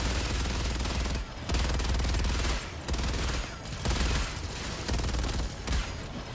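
A mech's front turret fires at a tank in a video game: loud, dense bursts of rapid automatic gunfire with short gaps between volleys.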